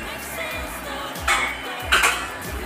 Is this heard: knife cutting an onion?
yes